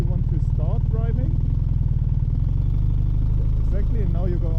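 A motorcycle engine runs close and loud with a steady low chugging rumble throughout, while people talk over it.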